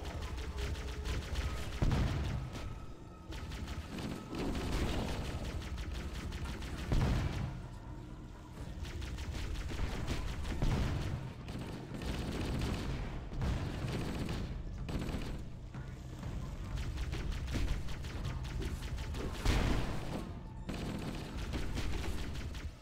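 In Halo: Combat Evolved, gunfire and shotgun blasts mix with heavy explosive booms in a dense, continuous firefight. The noise stays loud and busy throughout, with repeated sharp shots layered over rumbling blasts.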